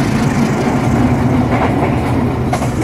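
Carriages of the Lodaya passenger train, including a power car, roll along the rails with a steady, loud, continuous rumble and faint rhythmic clatter, heard close and without any talk.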